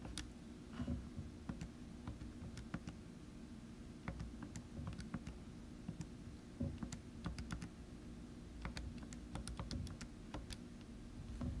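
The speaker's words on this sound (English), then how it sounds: "Type all of that into the calculator at one time." Calculator keys are pressed in a quick, irregular series of small, faint clicks over a low room hum, with no talking.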